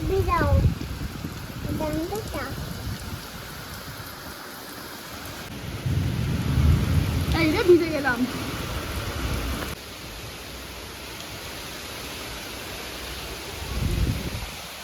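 Heavy rain pours steadily during a storm with low rumbling swells, and voices speak intermittently over the downpour.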